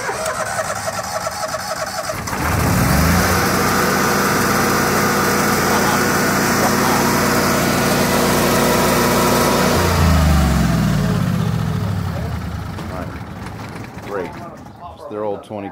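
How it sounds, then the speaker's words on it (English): An old 20 kW generator runs loudly nearby with a steady engine drone, its pitch rising and settling at moments while a voice talks over it. "Their old 20 kW generator."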